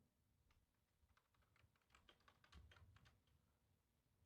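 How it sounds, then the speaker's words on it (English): Faint keyboard typing nearby in a quiet room, with short bursts of soft keystrokes that grow denser, then stop, followed by one louder knock at the end. "I hear typing."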